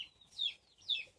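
Two short, quiet clucking calls from chickens in a coop, spaced about half a second apart, heard alone against faint background noise.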